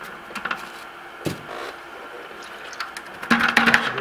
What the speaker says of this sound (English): Rinsing out my brush.